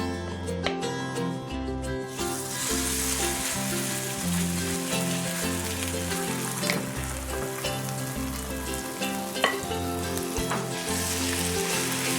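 Potato pancake mix frying in a fry pan, a loud steady sizzle and crackle that swells after the first couple of seconds, with faint kitchen clinks and no talk.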